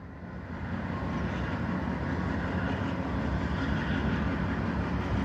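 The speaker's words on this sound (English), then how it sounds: "We got Norfolk Southern coming across that bridge." A Norfolk Southern freight train rolls steadily across a bridge on the Northeast Corridor, a continuous loud, broadband rumble of wheels and cars that holds even throughout, with no voices over it.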